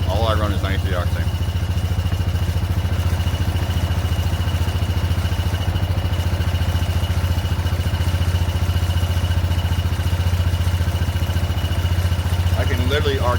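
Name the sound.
Yamaha Grizzly 660 ATV engine idling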